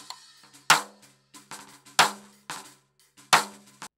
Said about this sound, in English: all we had was just one of those D drum triggers that we throw on the snare